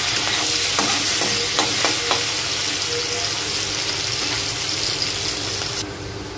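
Onions frying in a pan for a potato-cauliflower curry give a loud, continuous sizzle, broken by a few sharp scraping clicks from stirring near the start.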